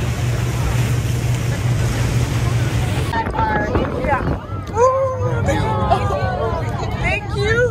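A whale-watching boat turns through ocean swells, its engine droning low under a steady rush of wind and water; partway through, voices begin talking over the noise.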